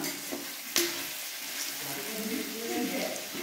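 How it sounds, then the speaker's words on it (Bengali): Goat meat fries in rice bran oil in a village kitchen, a soft, steady crackle and sizzle with a brief clatter of stirring near the start, and faint background voices. "এখন আমাদের এটা রাইস তেলে রান্না হচ্ছে"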